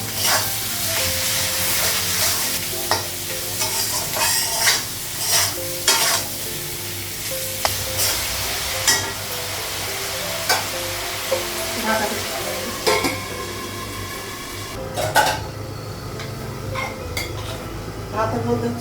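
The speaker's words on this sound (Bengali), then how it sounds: "আর একটু ভেজে নেব।" Food frying in a pan with turmeric, salt and cumin powder, a loud close sizzle under vigorous stirring, with repeated metallic scrapes and clinks of a utensil against the pan throughout.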